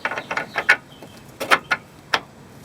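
A camber washer and nut are fitted onto a car's control arm by hand, producing a series of short, close metallic clicks and scrapes in small clusters, with no talk.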